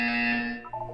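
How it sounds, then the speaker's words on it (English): An electronic test-chamber buzzer from the video game Portal 2 sounds as a loud, steady harsh tone that cuts off into a few short, quick blips. "When you hear the buzzer, look down at the floor."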